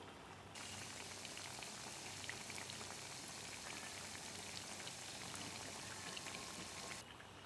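Chicken pockets frying in oil over a medium flame, a steady soft crackling sizzle that starts abruptly, holds evenly and then drops away, with no talking.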